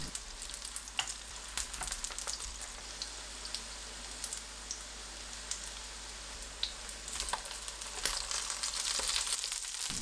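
King oyster mushroom pancakes frying in a pan on low heat, with a steady soft crackling sizzle that runs throughout, dotted with small pops and spatters and no talking.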